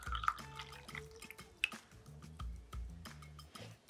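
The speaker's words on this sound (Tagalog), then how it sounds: "Unang proseso, salinan natin ng mainit na tubig ang ating baso. Lagyan natin ng mainit na tubig." Hot water trickles and drips into a glass while tea is being made, small splashy drips scattered over steady background music, with no talking.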